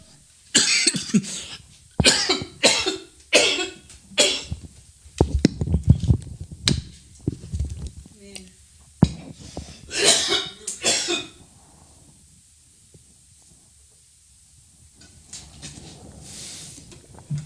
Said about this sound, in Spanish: hemos andado con un poquito de tos y un poquito de afección en la garganta